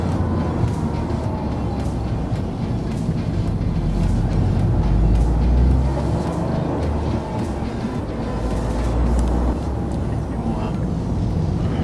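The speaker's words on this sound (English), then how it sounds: "A little bit of road noise, but nothing." Inside a moving 2020 Toyota GR Yaris, a constant low road and tire roar fills the cabin throughout, with occasional faint thumps and people talking over it.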